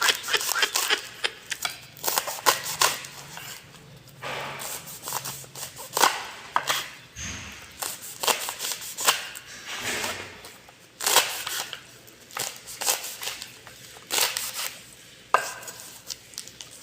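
Quick, irregular knife chops on a cutting board as herbs are cut, sharp taps in uneven bursts with short pauses, close and fairly loud, no voices.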